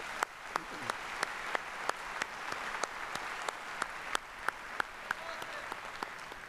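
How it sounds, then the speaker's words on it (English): Audience at a 2015 university spring commencement ceremony claps steadily, a moderate wash of applause with sharp individual claps standing out, fairly distant and continuous. "Please join me now in acknowledging them with your applause."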